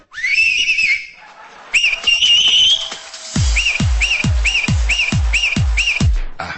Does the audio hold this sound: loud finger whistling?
yes